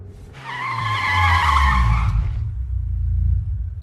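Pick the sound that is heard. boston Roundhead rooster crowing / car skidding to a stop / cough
car skidding to a stop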